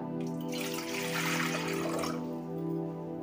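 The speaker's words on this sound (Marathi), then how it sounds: "आता या पातेल्यामध्ये आपण पाणी ओतूया" Water pours steadily from a half-litre jug into a pot for a couple of seconds, a close, splashing gush that eases off before trickling on.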